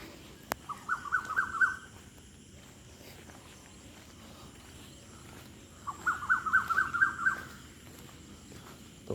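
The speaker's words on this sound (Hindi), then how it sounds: "चिड़ियों की चहकने की आवाज़ आप सुन सकते हैं।" Morning birdsong heard from a room, two short bursts of rapid repeated chirps several seconds apart, clear but moderately distant over a faint, quiet background.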